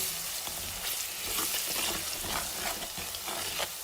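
Kofta masala with black pepper and salt sizzling and being stirred in a hot pan, a steady close crackle of frying with scraping stirs, no voices.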